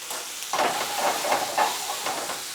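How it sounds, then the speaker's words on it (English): Dried chile de árbol and chile ancho frying briefly in a pan for salsa, giving a steady close hiss and sizzle with soft crackling pulses, no talk over it. "The chile de árbol and the chile ancho, you don't want to fry it too long. Just a quick fry"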